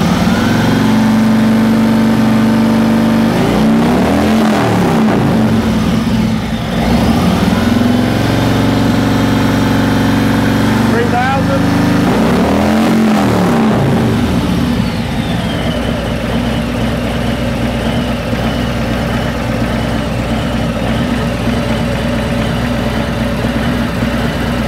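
Harley-Davidson motorcycle fitted with a Shark Road 4.4 inch exhaust, loud and close, idling low and rumbling, then revved up twice in long swells that fall back to a steady idle, with no talk.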